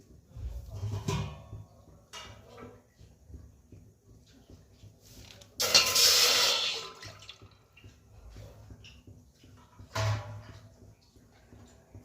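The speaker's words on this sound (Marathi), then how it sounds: "या ग्लासाच्या मेजरमेंटनी मी इथे पाणी घेणार आहे पाकासाठी" Water pours briefly into a metal pot for sugar syrup in one burst of about a second, set among quiet kitchen clatter.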